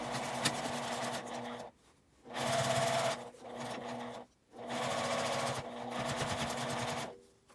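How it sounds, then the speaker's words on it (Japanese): A sewing machine runs in three sustained bursts of stitching through a quilted zipper pouch with a 1 cm seam allowance, separated by brief pauses, steady and close. "ここまで縫って返し縫いをします。"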